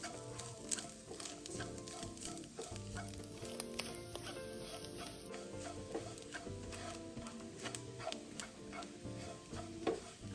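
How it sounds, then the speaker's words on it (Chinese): Dried shrimp and Chinese sausage stir-frying over medium heat in scallion oil for steamed taro cake, giving a soft sizzle with light stirring clicks and scrapes, close and moderately quiet, under background music. "与虾米一起爆香"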